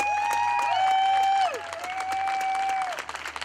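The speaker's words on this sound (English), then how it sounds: "So give yourselves a heartfelt applause." Audience applause at a political gathering on single-payer healthcare, clapping running under a loud, wavering whistle-like tone that rises and falls for most of the burst before thinning out.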